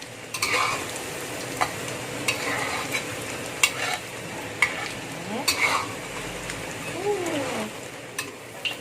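Tempe omelette sizzles steadily in hot oil in a pan, with scattered sharp clinks and scrapes of a utensil stirring and turning it, close and moderately loud.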